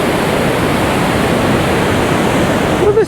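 Mountain stream water spills over rocks in a steady, loud, full rush that carries on unbroken with no voices.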